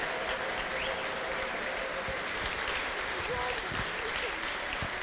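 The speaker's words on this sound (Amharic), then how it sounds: "ተነሱ ቁሙና እልልታ ጭብጨባ አምጡ" A church congregation applauds steadily, a continuous wash of clapping heard at a distance and fairly faint, with crowd voices and possible ululation blended beneath it.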